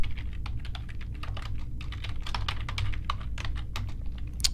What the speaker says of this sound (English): we're going to type that in quotation marks